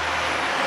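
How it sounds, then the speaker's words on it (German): Heavy trucks drive past on a road, a loud, steady rumbling roar with a hiss of air, close and continuous for a short moment. "jetzt fahren gerade ein paar Laster hier vorbei"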